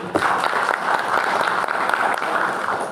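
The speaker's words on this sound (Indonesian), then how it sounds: "Tepuk tangan untuk beliau." Steady applause from an audience at a year-end police press conference in Pelalawan, greeting an army lieutenant colonel on his first visit; dense clapping holds at an even level for the whole stretch with no voices over it.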